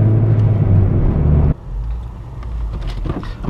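A manual transmission car's engine rumbles loudly and steadily up close, then drops off abruptly to a lower, rougher hum with a few light rev bursts near the end.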